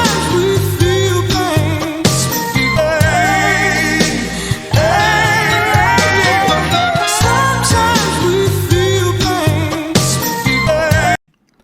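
A sampled music loop for an instrumental remake plays loud and dense for about eleven seconds, layered melodic and percussive hits repeating in a steady groove before cutting off abruptly.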